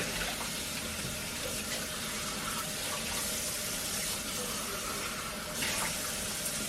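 Running tap water gushes steadily into a sink as a half measuring cup is washed, a continuous close hiss and splash with no talking.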